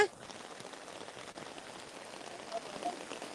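Steady rain falls over a flooded area around a hospital and road in Nong Chik, Pattani, Thailand, a continuous even hiss of drops on surfaces with no talk.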